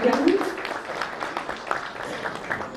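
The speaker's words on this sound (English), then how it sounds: "can we have a big round of applause?" Audience applause at an interior design excellence awards conference, a steady wash of clapping from a crowd that holds at an even level throughout with some voices mixed in.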